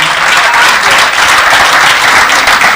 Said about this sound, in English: So a round of applause to Dr. Andre Horton once more.